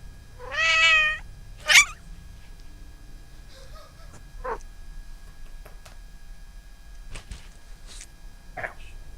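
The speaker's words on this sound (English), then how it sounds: "I can feel her purr on her rib cage." A house cat gives one clear drawn-out meow, followed by a few fainter short calls and rustling in a quiet room; any purring is too soft to stand out.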